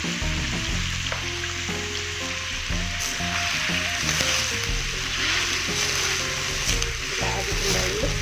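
Ginger, tomato and red and green chilies sizzle steadily in a hot pan, a constant loud frying hiss under background music and a voice talking.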